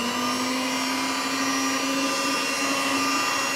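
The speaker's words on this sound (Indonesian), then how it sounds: "Lalu kita kocok lagi sampai rata." An electric mixer beats peanut butter marble cake batter, a steady, loud, even motor whine with a constant pitch that runs unbroken throughout, with no talking.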